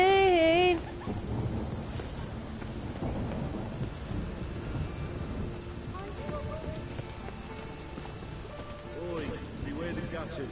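Steady rain and rolling thunder from the video game The Witcher 3, a continuous wash of rainfall with low rumbles beneath it and a short tonal sound at the very start.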